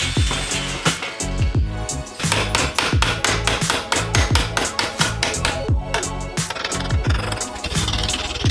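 A rusty BMW E30 inner wheel arch repair panel is hammered on a bench and on the car: loud, close metallic hammer blows in a rapid, steady rhythm, with short gaps between bursts.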